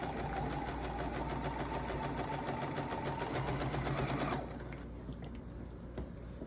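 A sewing machine stitches quilt pieces along a diagonal seam with a steady, rapid mechanical whir for about four seconds, then stops, leaving a quieter background hum.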